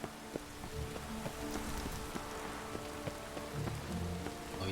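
Rain falling in the video game The Witcher 3: Wild Hunt, a steady pattering hiss with scattered droplet ticks and faint tonal game sounds underneath, without speech.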